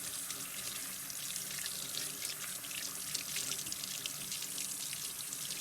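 A faucet runs steadily while hands are rinsed under it at a sink, giving a continuous close splashing hiss with no voices.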